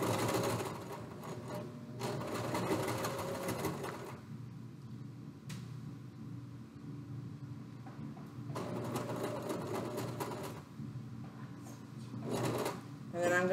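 A domestic sewing machine runs in bursts of steady stitching, with a pause in the middle while the presser foot is lifted and fabric repositioned, then resumes near and moderately loud, ending with a short back stitch.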